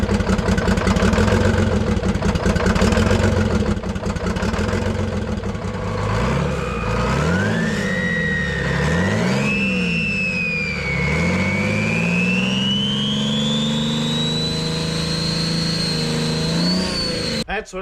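A Detroit Diesel engine fitted with a big turbo runs loud and close, idling roughly before revving up and down several times as a rising turbo whistle spools above the engine note.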